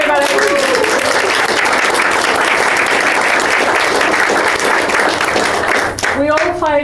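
Audience at an Ambitious Leaders Network event in Perth applauds loudly and steadily for nearly six seconds, the dense clapping fading briefly as a voice begins speaking near the end.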